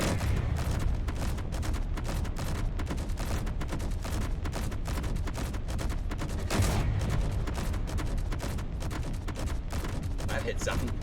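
Turret guns in the video game Space Engineers fire continuously at the sky, a loud, dense stream of rapid automatic shots with no pause from start to finish.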